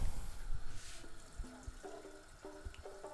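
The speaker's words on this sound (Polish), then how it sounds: "zalewamy wodą tyle, żeby, żeby całość tutaj zakryć" Water is poured from a glass into a pot of pilaf ingredients at home, a soft continuous splashing and gurgling under low room noise, with a few faint clinks.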